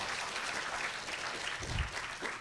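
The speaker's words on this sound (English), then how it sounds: "Let's give another round of applause for him." Quiet, steady applause from an audience at an online science talk on genetics and biology, a faint continuous patter of clapping with no voices over it.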